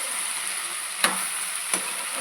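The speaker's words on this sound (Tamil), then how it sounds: "கோவக்காய் நல்லா வதங்கிட்டுருக்கு." Ivy gourd (kovakkai) sautéing in oil in a pan, a steady soft sizzle broken by two sharp spatula knocks about a second apart.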